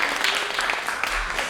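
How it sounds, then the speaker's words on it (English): Audience applause at a 2019 poetry slam at Barron Arts Center, a dense steady wash of clapping from a crowd that holds at full level throughout the short burst. "As always, applaud the poet."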